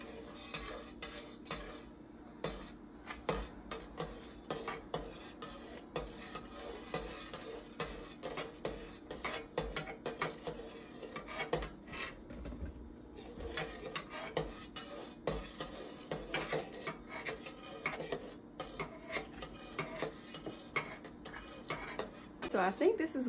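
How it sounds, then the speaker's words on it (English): Emulsified body butter being stirred in a container, giving a steady run of light scraping and clinking of a utensil against the sides, fairly close and soft, with no talking heard over it. "So you're gonna keep stirring."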